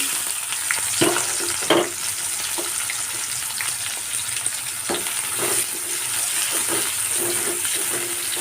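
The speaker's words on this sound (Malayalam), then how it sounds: "വെളിച്ചെണ്ണ ചൂടായിട്ടുണ്ട് ഇതിലേക്ക് ഞാൻ ഒന്നര സവോളയാണ് കേട്ടോ എടുത്തിട്ടുള്ളത്" Steady crackling sizzle of onions frying in hot coconut oil, with a few louder pops and scrapes of stirring; no voices.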